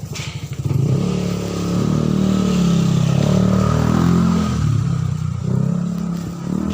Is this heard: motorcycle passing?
yes